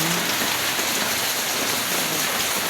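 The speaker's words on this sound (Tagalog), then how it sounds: "biglang uh, ah, bumuhos yung ulan at saka lakas ng hangin" Heavy typhoon rain pours down in a dense, unbroken hiss, loud and close, with wind adding to the steady wash.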